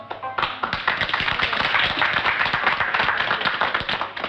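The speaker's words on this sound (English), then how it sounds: "Mr. Hunt, everybody's clapping, but nobody's buying anything" An audience at a fashion salon show claps close by, a crisp flurry of many individual hand claps that starts abruptly and keeps going briskly for about four seconds, loud and with no talk over it.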